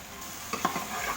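Chicken afritada being stirred in a pan, a couple of quick utensil scrapes and knocks over a faint steady sizzle, close and fairly quiet.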